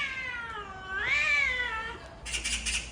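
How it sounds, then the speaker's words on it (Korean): Two cats yowl and caterwaul in a fight, their drawn-out, rising and falling cries loud and close for about two seconds before a burst of harsher, scratchy spitting at the end. "어머머머, 고양이 싸운다."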